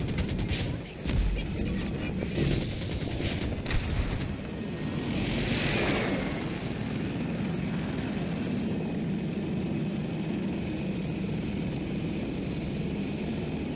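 A Hokum attack helicopter in the Battlefield 2042 video game roars steadily in flight, with bursts of rapid gunfire crackling over the rotor noise early on, loud and continuous throughout.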